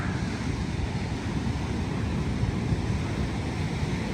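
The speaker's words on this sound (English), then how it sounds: "Water appears to be very, very choppy. There is a high surf advisory right now." Choppy ocean surf and gusting wind at a pier at Nags Head on the Outer Banks under a high surf advisory, a dense, constant roar of crashing water and rumbling wind buffeting the microphone, with no voices.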